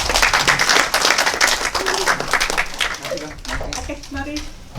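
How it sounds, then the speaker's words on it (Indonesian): Audience clapping at an Indonesian talk event, a dense burst of applause that gradually thins out over a few seconds, with speech mixed in. "Silahkan tepuk tangan Ibu Aya."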